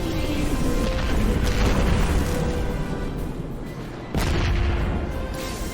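An explosion destroys a weapon in the sci-fi shooter Destiny 2: a sustained loud rumbling blast with crackling debris, fading slightly before a second sharp boom renews the roar.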